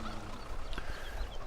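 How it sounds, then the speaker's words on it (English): Short clucks from a chicken in the farming game Farming Simulator 17, faint and close together over a low background hum. "So let's mind that white chicken."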